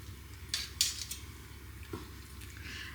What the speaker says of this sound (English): because I'm doing it for a steak bowl, I'm going to go with smaller slices here